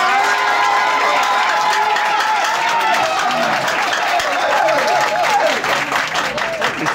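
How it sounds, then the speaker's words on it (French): A conference crowd applauds and cheers for the ladies in attendance, a loud, steady wash of clapping that holds for about seven seconds with voices mixed in. "Un gros applaudissement pour mesdames."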